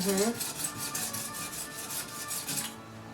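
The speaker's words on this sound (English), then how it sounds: "And then I'll just cut it like this, so I'll get real close, but I don't get down into the dirt." A sharp, clean knife cuts through a tray of wheatgrass just above the soil, giving a close, steady raspy slicing sound with a quick run of rhythmic strokes, soft and continuous.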